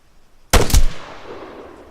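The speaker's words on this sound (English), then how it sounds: "Let's see if I shoot him from behind if he falls forward" A single sharp gunshot rings out in Arma III, loud and close with a quick double crack and a short fading tail.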